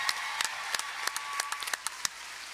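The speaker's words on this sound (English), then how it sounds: "I just want to give a round of applause to my mentor that's been in my corner for years, Mr. Jamil Aguari." Sparse, scattered handclaps ring out for mentor Jamil Aguari at a Milwaukee Bucks press conference, about a dozen separate claps from a small crowd spread over a couple of seconds.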